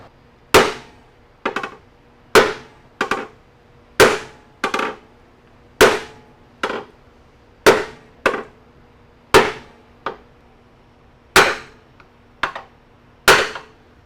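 A hammer strikes another hammer to dent the engine bay of a Honda EF Civic, giving about fifteen sharp metallic blows in pairs and singles with short ringing decays, loud and close.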